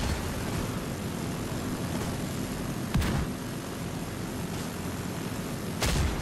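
Minigun fire in a video game roars as a sustained, dense mechanical rattle, close and loud, with a couple of sharper impacts cutting through the steady barrage.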